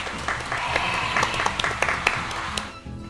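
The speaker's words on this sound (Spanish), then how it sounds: "Vamos, un fuerte aplauso para Jenny." A small group applauding indoors at a casual gathering, a short burst of clapping with sharp individual claps and some voices mixed in, fading out near the end.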